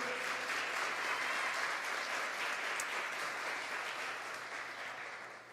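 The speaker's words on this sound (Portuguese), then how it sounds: "Aplauda ele aí em nome de Jesus" Steady congregational applause fills a church service, a broad even wash of many hands clapping that holds level and slowly fades toward the end.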